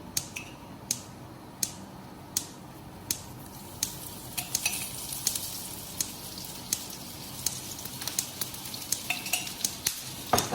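A mutton cheese paratha fries on a pan as oil goes on, giving a steady sizzle broken by regular sharp ticks and light utensil clicks, close and without talking.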